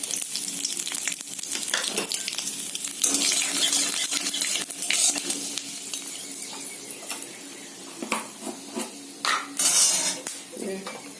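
Dry chili, bay leaf and five-spice frying in hot oil in a wok, a steady crackling sizzle with scattered clinks and scrapes of a metal spatula against the pan throughout.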